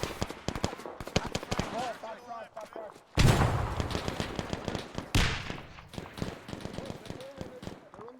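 A loud grenade blast in a D-Day war video game, a sudden heavy boom midway, with scattered gunfire cracks before and after while several voices talk over it.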